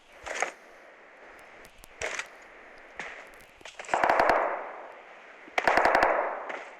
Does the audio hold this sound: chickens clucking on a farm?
no